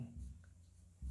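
Pen or chalk strokes while working a circle geometry proof, faint soft scratching under low room hum.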